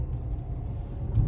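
An MG Comet EV electric car cruising on a highway gives a low, steady road and tire rumble from inside the cabin, even and continuous with a slight swell at the end, no voices.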